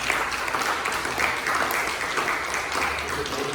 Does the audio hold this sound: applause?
yes